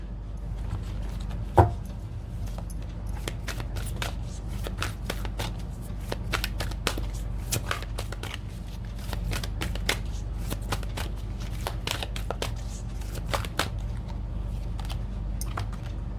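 Tarot cards being shuffled by hand for a card reading, a steady run of soft riffling and slapping card sounds with one sharper knock near the start, close and moderately loud with no talking.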